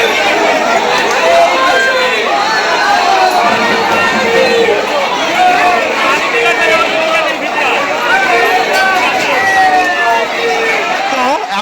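A dense crowd of devotees at the Singur Dakat Kali temple during a Shravan Monday pilgrimage to Tarakeswar, with continuous loud babble of many voices and shuffling movement close around.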